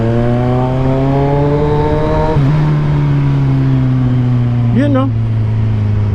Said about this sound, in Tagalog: baka mahuli tayo dito sa ingay ng ating tambutso